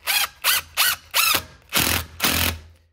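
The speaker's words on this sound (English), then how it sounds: "I'm going to try and drive this screw right into it" Drill driver sinking a wood screw, heard as six short motor bursts in quick succession, each one whirring up and then cutting off, with the last two longer and heavier as the screw seats.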